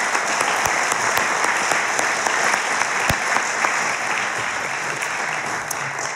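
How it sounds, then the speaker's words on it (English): An audience at a conference applauds, a dense sustained clapping from many hands that stays loud and even for several seconds with scattered sharper claps. "So if you could please join me in a round of applause for everyone who volunteered."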